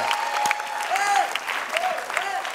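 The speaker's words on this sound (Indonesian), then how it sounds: "Tepuk tangan dulu untuk Leon." Studio audience applause on the game show Family 100 rattles along while a voice talks over it, with rising and falling tones cutting through the clapping.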